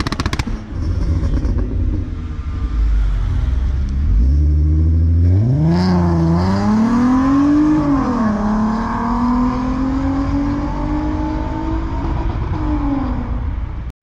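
A Volkswagen Golf 4 R32 engine revs hard nearby, the rumble rising and climbing in pitch as it accelerates, then holding a loud, throaty drone.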